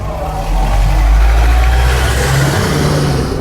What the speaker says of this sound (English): traffic's pretty busy.